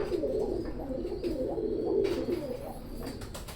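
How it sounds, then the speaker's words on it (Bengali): Young Oman Teddy pigeons coo in a steady, low, murmuring stream that continues close by throughout, with no talk. "স্ক্রিনে এখন যে কবুতর দুটো দেখছেন এটা হচ্ছে ওমান টেডির বেবি"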